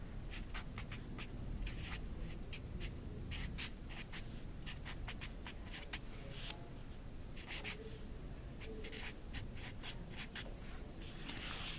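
A pen scratches steadily across paper, faint and close, in a continuous run of small strokes as math solutions are written out, with no talking.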